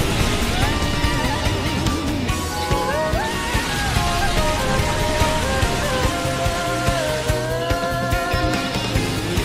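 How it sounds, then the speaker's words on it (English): Heavy rain pours steadily across the Colosseum stadium in the Pokémon Battle Revolution video game, a constant hiss sitting beneath loud, busy battle music throughout. "It's pouring rain in the Colosseum."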